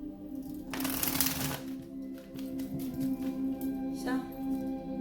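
A Queen of the Moon oracle card deck being shuffled up close, with a sharp riffling burst followed by softer, scattered card flicks and another brief shuffle near the end, no one talking.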